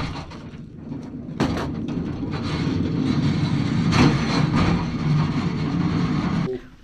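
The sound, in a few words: mine wagons being pushed by hand on rails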